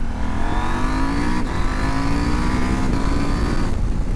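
A Husqvarna Norden 901 motorcycle accelerating hard on the road, its engine note climbing steadily through the revs with strong wind rush, loud and continuous, with no talking.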